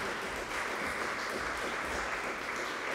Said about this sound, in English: Let's give a round of applause to our fire chief.